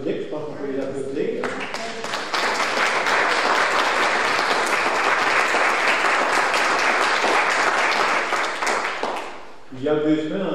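A church congregation applauds the musicians at a Pentecost Sunday service, a dense sustained roar of clapping for several seconds, with a voice speaking just before and after.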